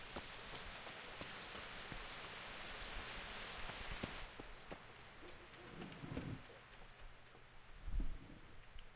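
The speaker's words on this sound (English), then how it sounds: "It's pouring down outside." Steady rain pouring down outside in Kingdom Come: Deliverance, a soft, even hiss of falling water with a couple of faint dull thuds, quiet and continuous with no voices.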